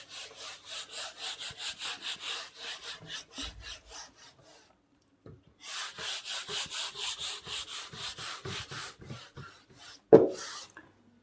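A written classroom board being erased with steady back-and-forth rubbing strokes, two long rhythmic bursts separated by a quiet gap, ending with a brief sharp knock.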